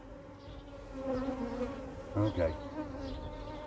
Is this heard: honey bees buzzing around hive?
yes